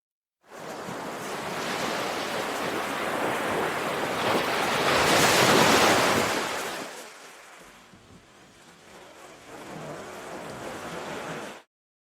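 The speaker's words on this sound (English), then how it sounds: "just listening to the crashing waves" Ocean waves crash and roll in a steady, loud surge, swelling to a peak, briefly easing, then building again; wind buffets the microphone throughout and no one speaks.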